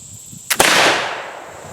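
A single sharp black powder shot from a GPR rifle loaded with 60 grains of Swiss 3F, fired into thick rubber AMF bowling cushion pads, cracks loud and close, then a short ringing decay.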